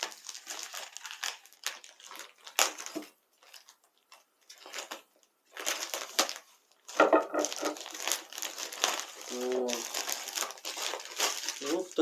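A small postal parcel is opened by hand with crisp crinkling and tearing of its wrapping in irregular close bursts, separated by brief quiet gaps, with a voice heard faintly at moments.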